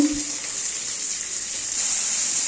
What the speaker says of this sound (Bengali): এবার পনিরগুলো দিয়ে দিচ্ছি ভাজার জন্য